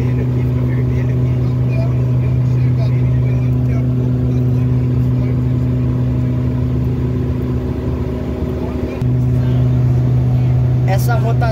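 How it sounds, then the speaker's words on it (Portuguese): Loud, steady small airplane engine drone with a strong low hum, engines running continuously at maximum power in flight, with a brief dip near the end. "Essa rotação dos motores está na máxima?"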